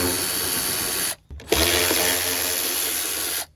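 A power tool whirs steadily at close range while a 10mm bolt comes out of a mud flap on a 2019-or-newer Chevy Silverado, in two loud bursts separated by a short pause.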